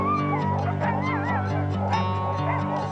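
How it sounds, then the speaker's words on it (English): Dogs bark and yip in a busy crowd at the ceremonial start of the Iditarod sled dog race in Anchorage, Alaska, with a steady dense din throughout and an ongoing layered chorus. "meet up with Craig and Brooke once again to witness the ceremonial start of the famous Iditarod sled dog race."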